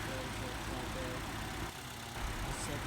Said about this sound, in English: So the dry belt installed and the engine's running.